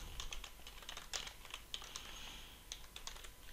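Quick, uneven clicks of a computer keyboard as code is typed, a light patter of keystrokes with short pauses, close and fairly quiet, with no talking.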